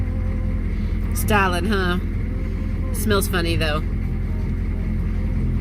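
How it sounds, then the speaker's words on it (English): A car engine purrs along at a steady, low, constant hum while driving, running beneath a person's brief spoken remarks. "So if you can hear this, my engine is just a purring along,"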